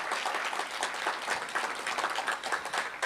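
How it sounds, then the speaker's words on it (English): Audience at a school-year launch event at a college preparatory high school claps for staff and the construction team, a soft, fairly distant wash of applause that holds evenly throughout without voices. "Give them a big round of applause."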